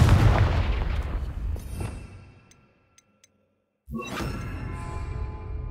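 A Confringo fire spell blast in Hogwarts Legacy: a loud, sharp burst with a whooshing tail that fades into near silence, then a second crackling surge of fiery energy.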